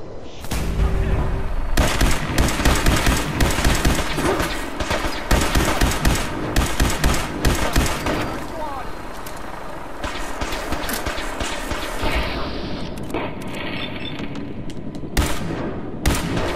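Gunfire in Fallout 4, dense loud bursts of rapid shots and blasts repeating throughout with brief gaps, heavy and close.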